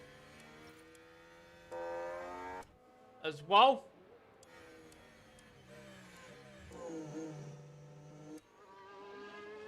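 Formula 1 car engines in F1 Manager heard faintly beneath someone talking, with whining tonal engine notes that rise and fall and a sharp revving sweep around the middle.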